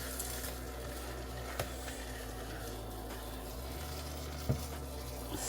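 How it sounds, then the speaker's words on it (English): Dressing frying in butter in a pan during Thanksgiving cooking in a van: a steady, close, low sizzle that runs throughout, with a couple of brief clicks or utensil taps. "So we just frying the dressing in butter."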